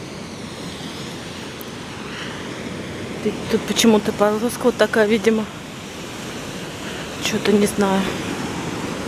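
Stormy sea surf on a beach in Spain makes a steady broadband roar throughout, with a person talking over it in the middle stretch.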